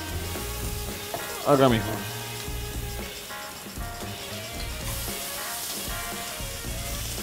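Onion and garlic fry in a pan as the base for a beef stew, a steady close sizzle with stirring scrapes throughout and a brief spoken phrase over it.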